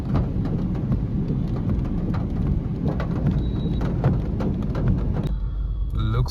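Heavy rain pours steadily in city traffic, a dense and loud hiss. Muffled car sounds run underneath it, and the rain thins out near the end.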